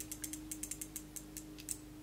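A vintage Wirgin Edixa Reflex-C camera mechanism ticks out a rapid, uneven run of small, dry clicks, like a ratchet, for about two seconds. It sounds faint and close, with no talking.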